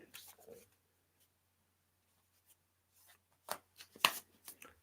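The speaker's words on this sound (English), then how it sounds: "I'm going to give this deck a good shuffle." A deck of oracle cards shuffled by hand: faint soft riffles and slaps scattered in short bursts, separated by quiet pauses, close to the microphone.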